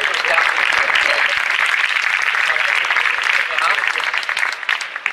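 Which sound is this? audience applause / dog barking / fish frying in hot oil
audience applause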